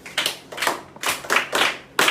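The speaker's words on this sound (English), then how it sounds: "A round of applause for him." Schoolchildren clap for a pupil who answered a history question, a few rhythmic bursts of group clapping, roughly four or five pulses, close and moderately loud.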